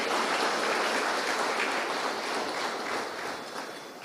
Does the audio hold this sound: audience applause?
yes